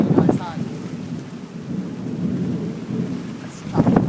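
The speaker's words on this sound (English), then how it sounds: "It's a tropical storm." Thunder and rain from Tropical Storm Flossie: deep, loud rumbles open and close the stretch, with steady rainfall hissing between them and no voices.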